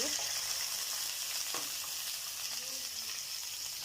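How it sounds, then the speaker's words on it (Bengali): Onions and bay leaves sizzling in hot oil in a kadai, a loud, steady hissing fry with a brief scrape of stirring partway through, heard alone without talk. "এখানে আমি পেঁয়াজ আর তেজপাতা দিয়ে দিব।"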